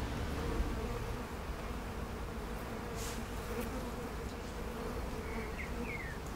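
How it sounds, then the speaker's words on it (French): A dense swarm of honeybees hums continuously, a steady close buzzing with no voices. "Voici donc un essaim."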